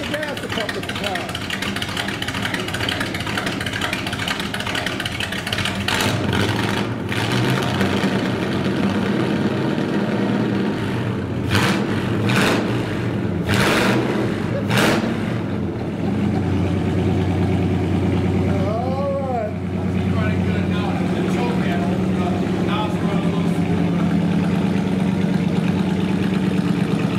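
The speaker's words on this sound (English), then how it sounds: "Hit the gas a couple of times." A 1970 Buick Electra engine idles with a low, steady rumble, then a few revs of the throttle swell and drop back, while people talk nearby throughout.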